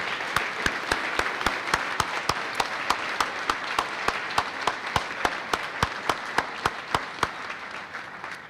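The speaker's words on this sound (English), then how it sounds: "Let's give these recipients a loud round of applause" An audience at a high school senior honors night applauds scholarship recipients, a steady bed of clapping punctuated by a sharp, regular series of loud near claps, about three per second, running the whole length.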